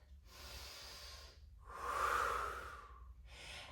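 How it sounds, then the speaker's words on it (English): Slow, deep yoga breaths during a flowing sculpt class: a long airy inhale, then a louder drawn-out exhale peaking in the middle, then another breath beginning, close and alone with no talk. "We take a cycle of breath"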